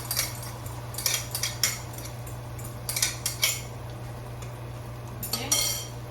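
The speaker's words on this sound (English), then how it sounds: "let's go in here now and scramble the eggs." A utensil scrapes and clinks against a frying pan on medium heat in quick bursts of stirring eggs, over a low steady hum, close and fairly quiet.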